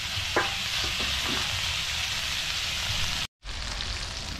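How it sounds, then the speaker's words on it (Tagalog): Field frogs sauté in a hot pan with a steady dense sizzle and a few clicks of stirring early on, broken by a brief cut near the end before the frying hiss resumes. "gigisa muna natin yung palakang bukid"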